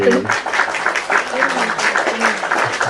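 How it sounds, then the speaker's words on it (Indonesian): Scattered applause on an Indonesian chat show about the series Gadis Kretek, clapping running under lively overlapping talk throughout. "ada ya tepuk tangan ya"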